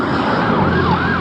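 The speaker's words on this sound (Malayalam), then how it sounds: "ഇതെന്താ ആംബുലൻസ് ഒക്കെ പോണു?" An ambulance siren wails loudly and continuously as the vehicle passes close by, its pitch sweeping up and down over the road noise.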